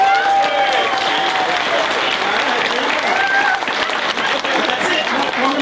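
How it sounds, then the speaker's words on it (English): A convention crowd at a Smallville reunion panel applauds the cast, loud sustained clapping with scattered cheers and chatter from the audience running throughout. "can we get a round of applause for the cast one more time, please?"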